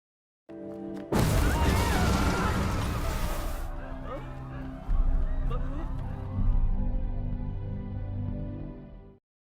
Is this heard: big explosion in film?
yes